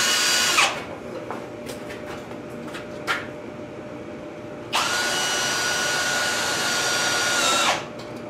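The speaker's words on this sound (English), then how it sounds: "I got all the holes drilled for the Craig jig" A power drill bores pocket holes with a Kreg jig for a homemade farmhouse table. Two separate bursts: a short whine that winds down quickly, then a longer steady run of about three seconds that also spins down. Light knocks of handling fall between them in a quiet workshop.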